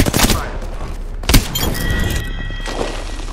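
Bursts of Apex Legends gunfire in a battle royale match, a heavy thud near the start and a sharp burst mid-clip over a steady game din, with no voice over it.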